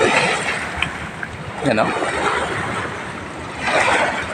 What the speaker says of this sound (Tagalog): malalakas po ang mga hampas na alon sa Pampangin